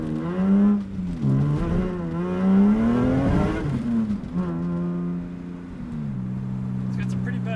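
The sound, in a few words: 1988 BMW E30 M3 with S54 engine revving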